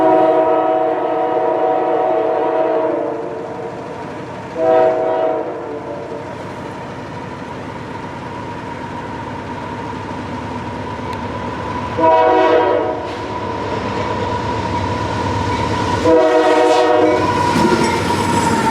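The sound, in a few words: freight train of empty pipe gondolas passing, horn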